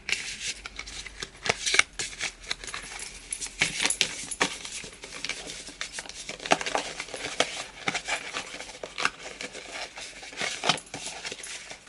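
A deck of tarot cards is shuffled by hand, up close and soft, with repeated crisp riffling bursts and card flicks in an irregular rhythm and no talking.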